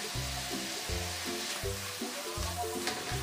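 Garlic pepper beef coated in all-purpose flour sizzles and fries in a pan, a steady close crackle broken by repeated stirring strokes at a regular rhythm, with no talk.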